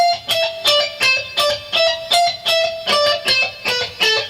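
Distorted electric guitar playing a scale at slow tempo in a rock lesson, evenly spaced picked notes about three per second, loud and close with no talking.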